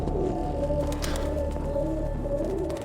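Pigeons coo in repeated soft rolling calls over a steady low background rumble, with no talking.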